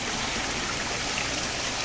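Water tumbling down an artificial waterfall extension at a farm resort in San Juan, Batangas, a dense, steady rushing roar, loud and close, with no voices.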